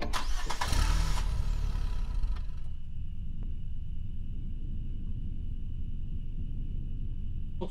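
A truck engine starting in the video game Cleaning RedVille: a loud cranking burst lasting a couple of seconds that settles into a steady, low idling hum, with no talk over it.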